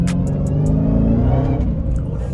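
A Dodge Durango SRT Hellcat's engine roars loudly up close in a sustained, throaty rev that holds for a couple of seconds before easing off.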